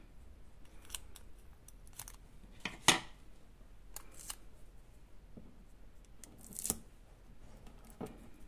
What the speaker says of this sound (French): On prend un petit bout de scotch et on scotche.